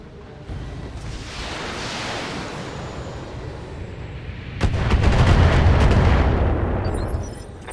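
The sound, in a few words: LRM-10 missile fire from a mech in BattleTech video game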